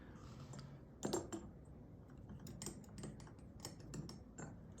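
A Waterman's fountain pen with a medium nib scratches across paper, quick dry scratchy strokes and small taps coming in irregular bursts, very faint and close, with no talking.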